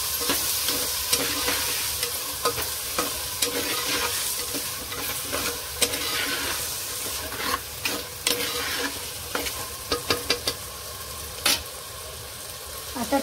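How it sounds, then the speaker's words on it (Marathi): A tomato rice mixture is stirred and fried in a pan, with steady close sizzling broken by frequent scraping, clattering stirring strokes throughout. "आता याला चांगलं मिक्स करून घ्यायचं आहे।"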